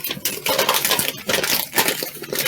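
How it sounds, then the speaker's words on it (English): Crinkly, crackling rustles of paper being crushed and crumpled up close, in irregular bursts with no talking. "Nice sensory noise there. Crumple it up."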